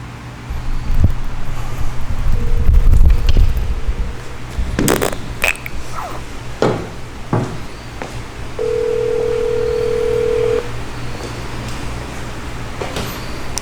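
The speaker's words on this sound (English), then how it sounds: "It's ringing again." A telephone ringing on an unanswered call to a mechanic's cell phone, a few repeated tones at steady intervals, heard over a constant background of road traffic.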